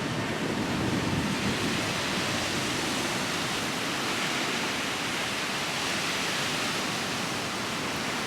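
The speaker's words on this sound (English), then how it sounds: "The waves come in viciously." Ocean waves crash steadily at Dana Beach Pier, a continuous loud roar of surf with wind buffeting the microphone and no pauses.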